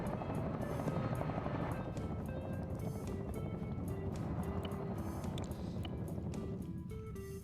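A helicopter in the video game Arma 3 drones steadily close and loud, its rotor chop and engine whine filling the air without pause.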